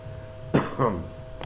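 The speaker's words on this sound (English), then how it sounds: "coughing." Two short, sharp coughs close to the mic, followed by a faint third burst, over a quiet hum.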